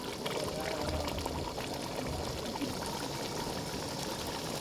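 Water is poured into a pan of chicken masala, a soft continuous pouring and bubbling wash at low volume, steady from start to finish.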